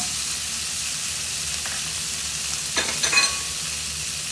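Apple and dates sizzle steadily in a hot pan on high heat alongside sea trout quinoa prep, with a few louder scraping stirs of a utensil near the end; no one talks.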